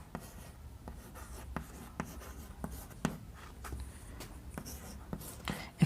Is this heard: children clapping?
no